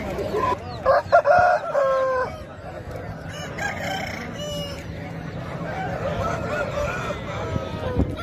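Several native chickens cluck and a rooster crows nearby amid the busy outdoor din of a weekly chicken market in Nallapadu, with people talking in the background.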